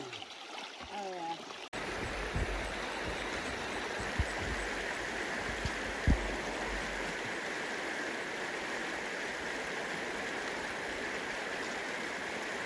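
A creek on a wilderness llama trek rushes and gurgles steadily nearby, a dense wash of flowing water that starts abruptly and continues without a break.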